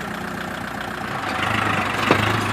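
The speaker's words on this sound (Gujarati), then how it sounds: "આ જોઈ લો તમે, ટ્રેક્ટર હાલે છે, આગળ હાલે છે ટ્રેક્ટર" A tractor engine runs in a farm field with a steady, mid-pitched chugging hum at moderate distance. It grows a little louder partway through, with one brief knock near the end.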